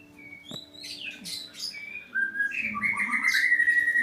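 Small birds chirp and whistle close by while a child feeds them, with bright overlapping calls that grow busier and more continuous toward the end.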